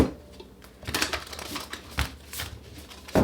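Tarot cards shuffled once more, a brief run of soft riffling and papery taps close by, with a sharper knock near the end.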